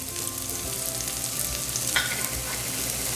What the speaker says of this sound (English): I'm adding the onions.